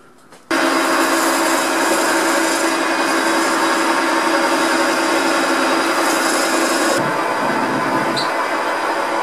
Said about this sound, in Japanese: 先にここの柄の方を切り離して仕上げてしまいます